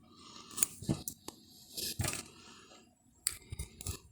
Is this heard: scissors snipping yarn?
yes